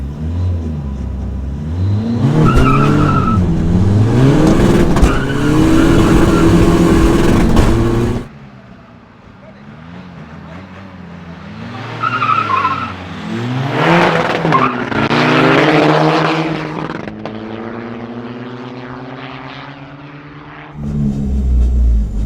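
A tuned 320 hp VW Golf GT TDI and a 320 hp Skoda Fabia vRS drag race: loud engines rev and accelerate hard through gear changes with tire squeal, then a lull before a second launch roars up.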